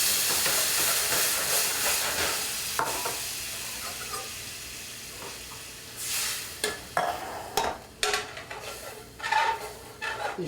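Red wine hitting a hot pan to deglaze it, a loud sizzling hiss that slowly dies down, followed by clattering stirs and scrapes in the pan.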